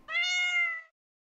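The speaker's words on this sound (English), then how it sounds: "It meowed at me." A single clear, drawn-out cat meow in the video game Lone Siren, close and alone, followed by silence.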